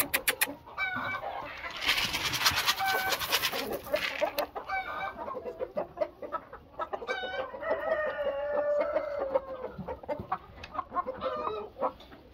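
Chickens cluck and a rooster crows in a farm coop during egg collection, with overlapping calls throughout, a loud burst of crowing near the start and steady nearby clucking after it, and no talking.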